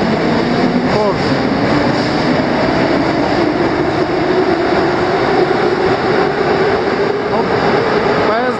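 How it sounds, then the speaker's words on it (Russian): Saint Petersburg metro trains at Tekhnologichesky Institut station, where red Line 1 and blue Line 2 run side by side, give a loud, steady rumble of rolling stock that fills the whole stretch, with someone talking over it. "Вот, поезда идут в одном направлении, да?"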